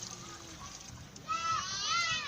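Water is poured into a seasoned pot of stew chicken. A brief, close splashing trickle starts about halfway through and runs to the end after a quieter moment.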